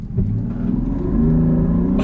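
A 2020 Land Rover Defender P400 in sport mode accelerates hard through a 0-60 run, its engine drone loud and steady, rising in pitch with a continuous, strong pull heard from inside the cabin.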